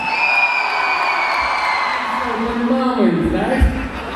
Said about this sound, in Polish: Gorące brawa, Greg Enko